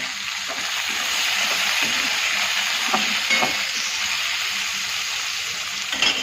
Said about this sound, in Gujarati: હવે અંદર આપણે ટામેટાં નાખી દઈએ